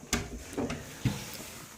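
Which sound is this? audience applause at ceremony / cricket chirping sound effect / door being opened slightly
door being opened slightly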